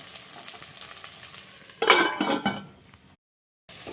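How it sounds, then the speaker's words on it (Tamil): Okra stir-fry with salt being stirred in a pan makes a loud burst of scraping, clinking utensil strokes over a low sizzle, then cuts to near silence before the sizzle returns. "உப்பு சேர்த்து இதை நல்லா கிண்டி விட்டுட்டு மூடி போட்டு வச்சுருங்க"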